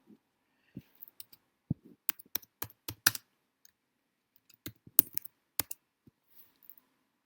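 Keys clicking on a computer keyboard in short bursts of close, crisp taps with brief pauses between them, in a quiet room with no talking.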